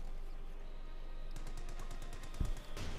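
A Vickers machine gun in Company of Heroes 2 rattles out steady, evenly spaced bursts at moderate distance, with a louder thud near the end amid battlefield ambience.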